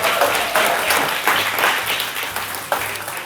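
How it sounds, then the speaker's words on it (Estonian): Steady, dense applause from an audience welcoming a guest onto the stage of an Estonian live talk show, sustained and fairly loud with no voices over it. "Daamid ja härrad, kutsume lavale Elisaveta, teeme suure aplausi."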